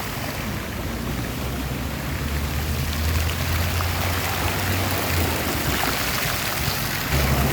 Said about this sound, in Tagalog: oh, lakas ng fountain